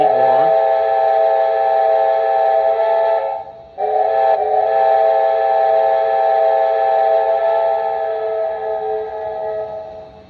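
A loud steam whistle from a model ATSF 4-8-4 Northern locomotive sounds, briefly cuts out, then resumes and trails off slowly in a long, fading ending.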